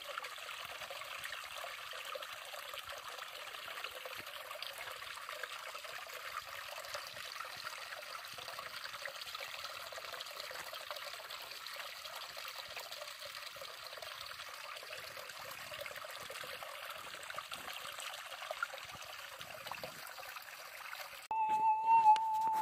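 Creek water trickling and babbling in a steady, soft flow outdoors, continuous and fairly faint, with a brief louder rustle near the end.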